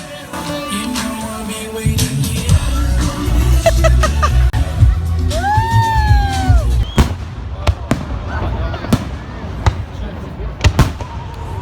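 Fireworks bang and crackle in repeated bursts, with a few whistling rockets rising, over a crowd murmuring nearby, in Queensland, Australia.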